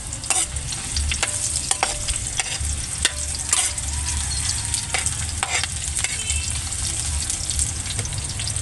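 Onion sizzles in a hot pan in a provincial home kitchen, with frequent scraping stirs against the pan over a continuous frying hiss and no talk.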